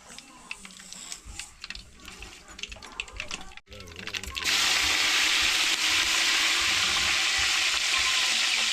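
Green chillies and onion tipped into a pan over a wood-fired chulha for kanda poha: clattering stirs first, then a sudden loud, continuous hiss of frying that takes over, with brief voices early on.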